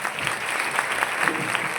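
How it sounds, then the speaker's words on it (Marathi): A crowd at a gathering at the Jagdamba Mata temple in Ghanegaon claps for a young girl, dense continuous applause filling the brief moment without a break. "खुशीताईसाठी सर्वांनी टाळ्या वाजवा."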